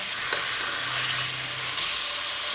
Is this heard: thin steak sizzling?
yes